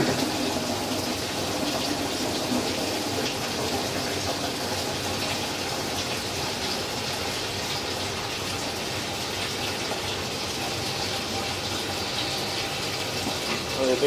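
Water gushes steadily into a shallow, partially clogged drain pipe at a residential property, a continuous, moderately loud rushing pour with no breaks.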